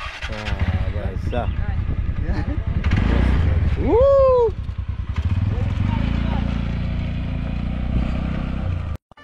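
A motorcycle engine is started with the electric starter while the brake is held, catches and revs up loudly nearby, then settles into a steady idle, with people talking and shouting around it.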